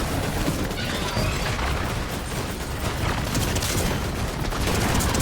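Rapid gunfire and explosive bursts from a Fortnite battle during a Chapter 3 Season final live event, dense and continuous with crashes and mechanical clatter throughout, no voices.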